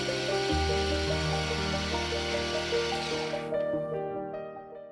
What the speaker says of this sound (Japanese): 90度方向を変えて仮固定用のネジ穴を開けていきます。